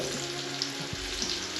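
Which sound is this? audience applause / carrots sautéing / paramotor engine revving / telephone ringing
carrots sautéing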